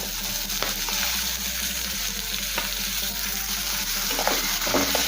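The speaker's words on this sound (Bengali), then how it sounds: "সব কিছু ভালোভাবে নেড়ে মিশিয়ে নেব আর কিছুক্ষণ সময় নিয়ে কষিয়ে নেব" Onions fried with ginger garlic paste, tomato and green chilli, stir-fried in a pan for Bengali ghugni, a steady close sizzle and hiss with occasional sharp scraping strokes of a spatula and a faint low hum beneath.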